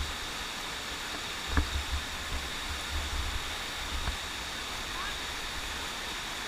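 Steady broadband rushing of a waterfall fills the scene, constant and fairly distant, with a few faint thumps and low murmurs underneath, in the Philippines.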